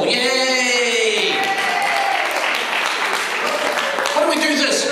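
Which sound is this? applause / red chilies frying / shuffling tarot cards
applause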